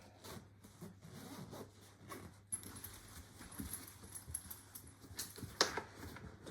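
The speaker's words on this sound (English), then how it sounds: "zip it up" The mattress cover of a Bugaboo Fox 5 bassinet is being zipped closed: faint, close rasping zipper strokes with soft fabric rustling, quiet and without talk.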